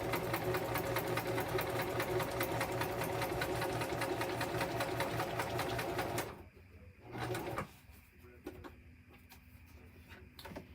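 A sewing machine runs a straight stitch in a fast, even rattling whir heard close up for about six seconds, then stops abruptly, followed by a brief burst and quieter room sounds.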